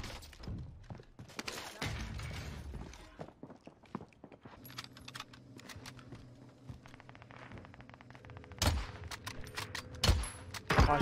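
Gunfire and impacts in the Warzone Rebirth battle royale game, with scattered bursts and sharp cracks over a busy game soundscape, louder shots punching through near the end.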